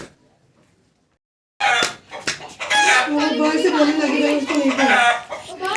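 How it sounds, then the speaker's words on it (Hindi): A black hen clucks loudly and repeatedly indoors as she comes in, her agitated calls mixed with people talking nearby after a quiet start. "काली मुर्गी आई आने देने के लिए।"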